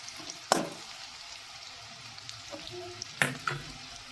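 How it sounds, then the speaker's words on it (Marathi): Onions frying in oil in a pan for dhaba-style rajma masala, a soft steady sizzle with a few sharp clinks of a spoon stirring against the pan. "त्याच्यासाठी कांदा चांगला लाल होऊ द्यायचा"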